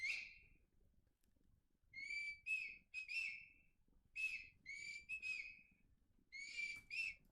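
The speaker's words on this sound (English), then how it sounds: "There are the whistles. I loved those whistles." Sampled whistles from the Goblinity virtual instrument library play a short melodic phrase of clear, bright, breathy notes in clustered bursts with brief pauses, quiet and alone with no voices.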